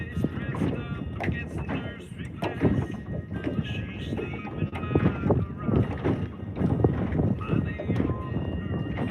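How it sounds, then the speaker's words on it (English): Water sloshes and splashes against a small fishing boat hull in irregular bursts, with someone talking throughout over light wind. "I hear the water hitting the boat splashing"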